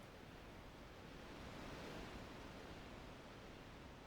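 Soft wind in Final Fantasy X, a faint, steady broadband rush that swells slightly in the middle, with no other sounds over it.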